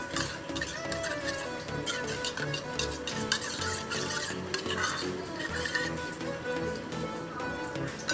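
A spoon stirs spice paste with a little hot water in a small bowl or pan, giving steady scraping and clinking strokes, soft and close, with no talking.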